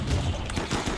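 Autocannon in a video game firing a rapid burst of heavy, booming shots, loud and continuous over the brief moment.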